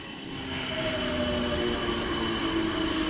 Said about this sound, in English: And this train is departing for Shepperton.